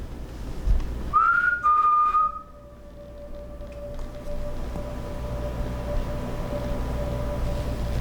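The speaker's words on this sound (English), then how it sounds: "A pipe, or a whistle." A faint whistle-like squeak rises and wavers briefly, then settles into a long, thin steady tone that lingers quietly over low background hum inside an allegedly haunted house.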